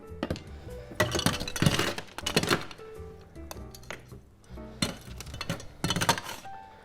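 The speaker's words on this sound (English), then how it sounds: "a little bit of a stir just to get that ice down there." Ice cubes stirred in a glass while a Singapore Sling cocktail is mixed, a busy run of close bright clinks and rattles against the glass in uneven bursts, with no talking.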